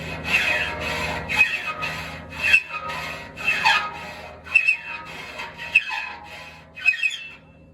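A hand file rasps across saw teeth to sharpen them in a series of rhythmic scraping strokes, each stroke ending with a bright metallic squeal, close and clear with no talking.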